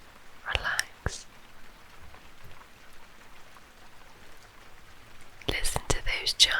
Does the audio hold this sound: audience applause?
no